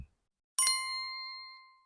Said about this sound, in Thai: ข้อความของระบบได้แจ้งเตือนขึ้น